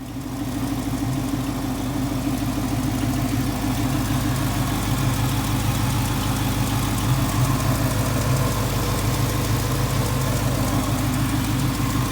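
A 1970 Ford Mustang Mach 1 engine runs at a steady idle, close and continuous, with a low, even rumble and a fine rhythmic lope and knock throughout and no speech.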